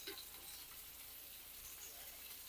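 Oil goes into a hot pan to fry rice for fish mandi, producing a steady, faint, hissing sizzle that runs without a break, with no voices.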